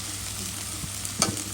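Onions fry in melted fat in a pan for a fish bhuna, a soft continuous sizzle with a brief sharp scrape of stirring near the end.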